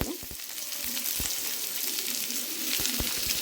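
Large-cut onion pieces sizzle steadily in a hot pan for a Telugu kandi kattu charu, with green chillies and smashed garlic, a continuous frying hiss broken by a few soft stirring knocks, close and moderately loud.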